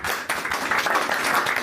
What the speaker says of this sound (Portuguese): Salva de palmas aqui para os competidores.